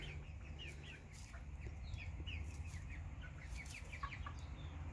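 Rhode Island Red chickens cluck and chirp softly in a backyard flock, a scatter of short high calls over a low steady background hum, with no voices.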